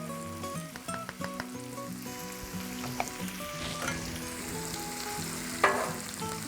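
Diced ham and onion frying on a Blackstone griddle: a steady, faint sizzle and crackle, with occasional scrapes and clinks of a spatula stirring the food.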